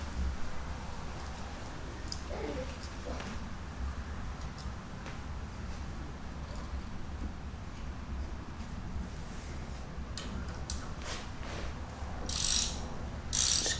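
A ratchet tightens bolts on a 2019 Honda Monkey motorcycle, giving faint scattered clicks over a low steady hum and a couple of louder, harsher ratcheting bursts near the end.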